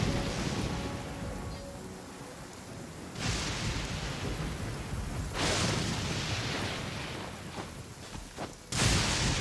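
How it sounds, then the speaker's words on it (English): Steady rain on Inazuma island in Genshin Impact, with rolling thunder swelling in several loud surges and a sharp crack near the end, all without voices. "If this rain keeps up, my fur will be dripping wet."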